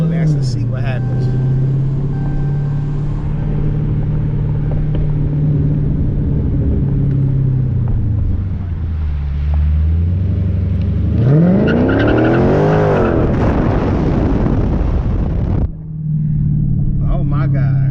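A 2019 Dodge Challenger ScatPack in sport mode is pushed hard, its engine rumbling low before rising into a loud, climbing roar that peaks and shifts, then drops back to a deep burble, heard from inside the cabin with voices over it.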